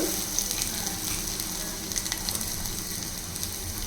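Chopped onions frying in a spoonful of oil in a pan for Maggi noodles, a steady, close crackling sizzle with faint stirring and no talk.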